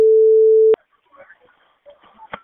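A loud, steady telephone busy tone sounds for under a second after a call disconnects, then cuts off abruptly, and faint scattered sounds follow.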